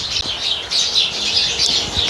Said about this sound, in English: chirping at me like crazy right now